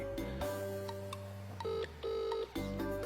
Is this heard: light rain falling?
no